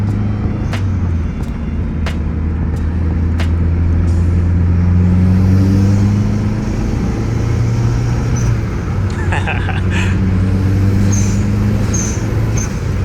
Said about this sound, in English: we want to hear that HKS blow valve and the turbo noises